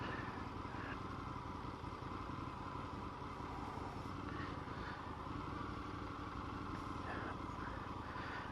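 A 2020 Indian FTR 1200 motorcycle engine drones continuously and loudly while being ridden, with steady wind and road noise throughout and no clear speech.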